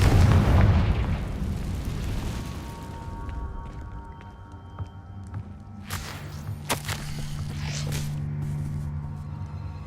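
Confringo spell blasts go off in a video game: a heavy boom at the start rolling into a long fading rumble, then several sharper cracks and pops a few seconds later against a low ambient hum.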